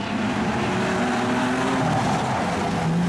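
Street stock race cars thunder around Kingaroy Speedway at a green-flag restart, a dense, continuous roar of several engines blending together with shifting pitch and no pauses.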